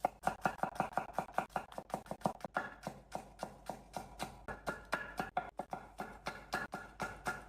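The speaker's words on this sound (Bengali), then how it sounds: "তারপর ক্যারেটগুলো আমি পাতলা স্লাইস করে কেটে দিচ্ছি।" A knife chops carrots into thin slices on a cutting board, a quick, steady run of sharp taps and thuds, close and distinct, with brief pauses between bursts.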